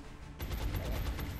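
A burst of rapid gunfire in the video game XCOM: Enemy Within starts abruptly after a quiet moment, crackling in quick repeated shots with a deep thudding undertone, fairly close.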